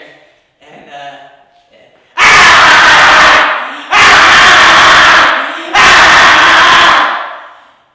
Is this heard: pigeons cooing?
no